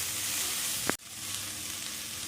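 Shredded cabbage fries in a pan over low heat with a steady, close hiss. A brief thin squeal and a short dip interrupt it partway through, and no voices are heard.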